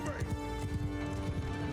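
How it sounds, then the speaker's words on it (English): Horses galloping across a battlefield in Mount & Blade II: Bannerlord, a rapid steady clip-clop of hooves under a continuous hum of game music and noise. "Horse archers keep pulling back."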